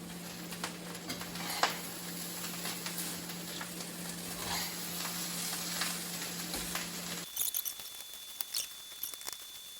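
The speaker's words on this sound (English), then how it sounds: "while you're flipping the rice, you want to make sure to get these big clobs out" Rice frying in a pan and being flipped: a quiet, steady sizzle broken by scattered light scrapes and pattering. A background hum drops away near the end.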